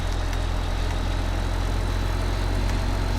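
A harvester engine runs in the Farming Simulator 15 farming game, American Outback map, with a constant low rumbling drone that holds steady and close throughout, no voices.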